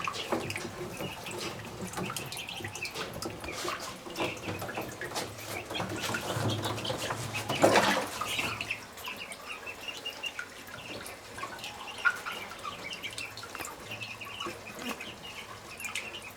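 Week-and-a-half-old tufted ducklings peeping and splashing in water in an easy-to-clean enclosure, a busy wash of splashes and faint high peeps that swells then settles, fairly quiet overall.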